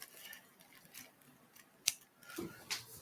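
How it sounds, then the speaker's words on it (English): Scissors making a few quick snips into a cooking bag of seasoned chicken, sharp close clicks spread across a quiet kitchen moment. "So I'm going to snip 4 little holes"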